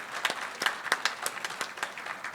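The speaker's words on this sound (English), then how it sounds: "Let's have a round of applause for him," Sparse applause from a conference audience at a mining and minerals event, welcoming a speaker; a few distinct claps in an irregular rhythm, moderately near and fairly quiet, without talk.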